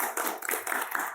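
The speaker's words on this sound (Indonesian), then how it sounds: "Tepuk tangannya." Brief burst of hand clapping from a small group at the start of a school student-election session, close and fairly loud with uneven rhythmic claps over about a second.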